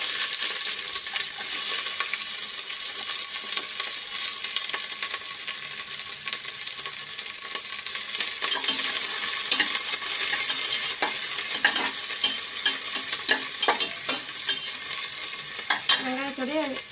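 Onions frying in hot oil with biryani paste for a podi urulai biryani, a dense steady sizzle throughout with stirring scrapes and light clinks growing busier toward the end, heard up close with no talking.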